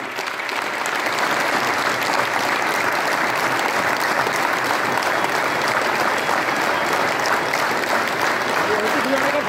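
Dense, continuous clapping from a crowd in an assembly hall, loud and steady for the whole stretch, with faint voices mixed in beneath it.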